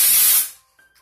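A Batiste Original dry shampoo aerosol sprays in one loud, close hissing burst of about half a second, then cuts off and fades into quiet.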